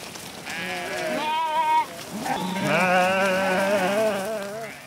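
Sheep bleating in long wavering calls, several animals close by and loud, from a flock grazing peat moorland heath in the Fagnes.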